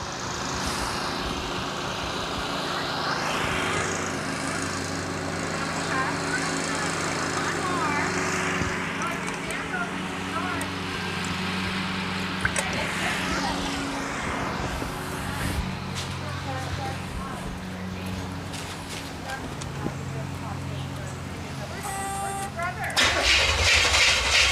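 A 1969 Buick Skylark engine cranks over and over without catching, a steady labored starter churn with sputters, while people talk nearby, ending in a louder burst of noise.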